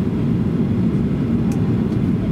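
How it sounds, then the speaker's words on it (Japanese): A JAL airliner cabin rumbles on a rainy landing approach to Oita Airport, a loud, steady, low engine and airflow roar that fills the whole stretch without a break. "この飛行機は間もなく着陸いたします。"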